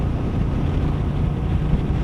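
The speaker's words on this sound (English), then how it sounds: "as you can probably hear," Steady wind buffeting a microphone while riding a Royal Enfield Meteor motorcycle, a constant low rumbling roar with no breaks.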